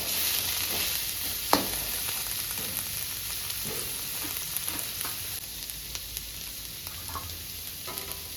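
Street-style chicken egg fried rice fries in a pan with a continuous sizzle, and a few sharp clicks and scrapes of stirring punctuate it throughout.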